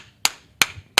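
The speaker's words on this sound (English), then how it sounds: "Clap it up, man." Three sharp, evenly spaced claps at a religious class gathering, each a loud isolated smack with a short decay, spaced about a third of a second apart.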